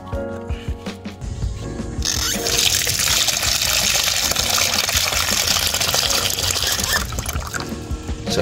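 Water gushing from a tap or hose to rinse rust remover off a car part, starting after about two seconds of quieter handling noise and then pouring loudly and continuously up close; no talking.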